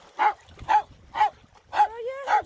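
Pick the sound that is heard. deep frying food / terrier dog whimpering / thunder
terrier dog whimpering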